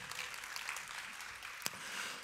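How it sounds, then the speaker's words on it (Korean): Audience applause for a pianist after a jazz piano performance at a jazz bass festival concert, a steady, fairly quiet wash of clapping throughout with one sharp louder clap near the end. "피아노 연주로 저를 이렇게 같이 돋보이게 해주신 조윤성님께 다시 한번 박수 부탁드립니다"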